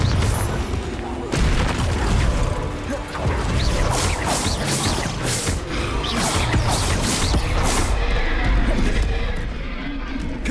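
Repeated Confringo blasting-spell explosions in Hogwarts Legacy, a dense, loud barrage of booms and crashes layered over busy game combat noise, with spell voice lines mixed in throughout.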